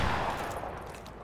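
Gunfire in Call of Duty Modern Warfare 2 Campaign Remastered, a single loud, close shot with a short ringing tail and no talking.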